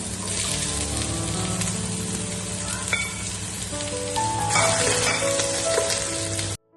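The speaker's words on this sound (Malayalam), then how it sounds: "ഇതിലേക്ക് നേരത്തെ കട്ട് ചെയ്ത് വെച്ചിട്ടുള്ള ഉള്ളി ആഡ് ചെയ്യാണ്" Chopped onion frying in a pan for mushroom rice, a steady dense sizzle throughout with stirring scrapes and a brief surge of crackle partway through, close and loud with no talking.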